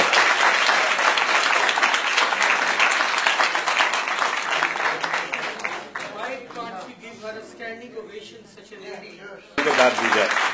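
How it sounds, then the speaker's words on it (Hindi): An audience at a poetry recital breaks into loud, dense applause that tapers off after about six seconds as a voice speaks, then claps swell again briefly near the end. "बहुत बहुत सारी तालियां"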